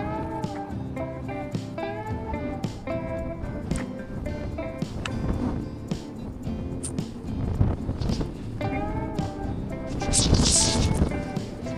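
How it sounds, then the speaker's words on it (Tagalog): Strong wind buffets the microphone in constant rumbling gusts, with people talking and occasional knocks underneath. "Grabe, lakas ng hangin."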